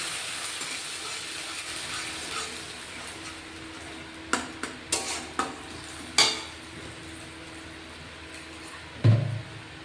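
Tomato puree goes into a curry in a pan and is stirred, giving a faint low sizzle, scattered spoon knocks and scrapes, and a louder clatter near the end.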